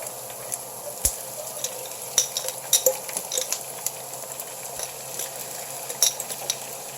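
Onion and shrimp paste sautéing in a pan for ginataang tilapia, a steady soft sizzle broken by metal utensil clinks and scrapes as the mixture is stirred, close and alone.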